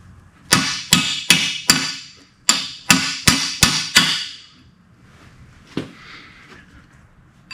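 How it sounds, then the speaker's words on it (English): A hammer strikes a rusted metal steering part in two quick bursts of sharp, ringing clangs, four blows and then five, followed after a pause by one more, loud and close. "we'll start beating on this thing. May have to get a bigger hammer."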